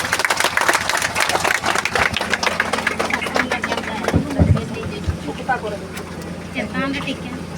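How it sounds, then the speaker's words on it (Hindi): Clapping from a congregation at a new church blessing, dense and broadband through the first few seconds, fading under voices and scattered knocks later. "तालियां बजाएंगे।"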